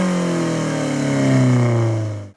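A 2016 Alfa Romeo 4C Spider's engine revs loudly and steadily through an exhaust with no muffler or resonator, a raw, close drone that holds for about two seconds before cutting off abruptly.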